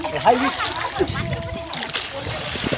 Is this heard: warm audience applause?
no